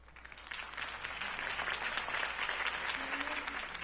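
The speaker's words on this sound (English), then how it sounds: "could have heard that applause" A crowd applauds a campaign speech for Harvey Dent, a thick wash of clapping that swells in within half a second and holds steady and fairly close. A faint voice may sit underneath.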